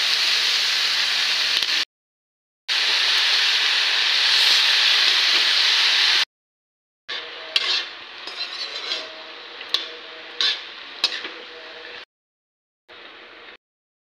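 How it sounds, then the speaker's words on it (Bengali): Spinach frying with salt in a pan for a potato and eggplant dish, a steady loud hiss and sizzle broken by brief pauses, followed by scattered clinks and scrapes of a utensil stirring against the pan. "দিয়ে দেবো পালং শাক, একটু ভাজি করে নেবো পালং শাকটাকেও"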